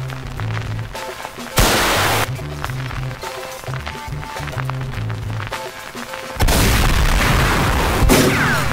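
Bursts of gunfire and booming impacts in a comedy action movie trailer, loud and layered with music, with two heavy blasts standing out against a dense soundtrack.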